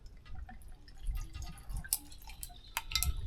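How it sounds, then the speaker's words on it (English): Tequila is poured into a makeshift glass with soft, irregular trickling and dripping, plus a few small glassy clinks close by. "While we cook, I'm going to pour myself a glass."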